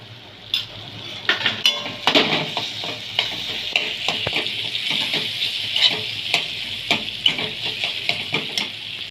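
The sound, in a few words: vegetables with spice paste frying and stirred in pan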